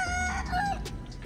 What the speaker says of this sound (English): Look at all the chickens in the trash.